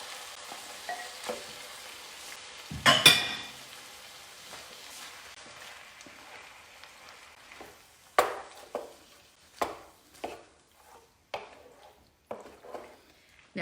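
Canned stewed tomatoes go into a pot of steakhouse chili with a wet splash and sizzle, followed by a series of evenly spaced, sharp scraping stirs and soft background bubbling.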